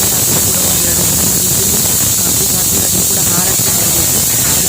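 Pressure cooker cooking sambar, loud and close, releases a steady high-pitched whistle over continuous hissing steam that fills the whole stretch without a break.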